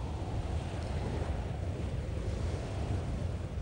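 High waves in the icy North Sea surging and crashing, a continuous heavy roar of surf with wind buffeting, loud and close throughout with no voices.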